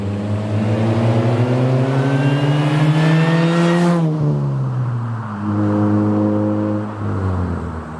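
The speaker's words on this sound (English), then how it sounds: "is the supercharger whine." Supercharger whine from a Chevrolet Cobalt SS, a rising high-pitched mechanical whistle climbing with engine revs alongside a loud engine drone, dropping sharply as the throttle lifts, then a second shorter rev and fall.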